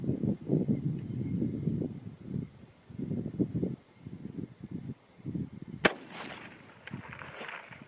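Rifle shot from a 22 ARC or 224 Valkyrie with no muzzle brake, firing 62-grain Hornady ELD-VT loads: one sharp, loud crack near the end, with low rumbling and handling noise before and faint ringing after.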